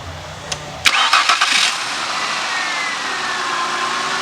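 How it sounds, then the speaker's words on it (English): A car engine cranks with a few quick starter bursts, then catches and settles into a steady idle, loud and close with no talking. "Now I'm going to start the car up and watch what pattern you get."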